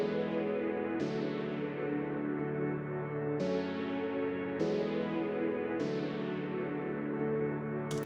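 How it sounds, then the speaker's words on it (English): Layered synth pads and keys sustain together in a thick, steady wash, with soft new chords swelling in every second or so, moderately quiet and alone, from a cover. "if we play every pad and keys, we can hear this"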